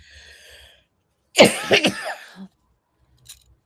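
One person coughs in a harsh burst of several rapid hacks at close range, followed by quiet with only faint background noise.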